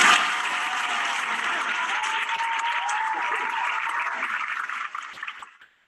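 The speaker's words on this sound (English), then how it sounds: "I'm going to give everyone on our last block a little round of applause" Round of applause rising at once and holding steady for several seconds before tapering off and fading out at the end, sounding somewhat washed and distant.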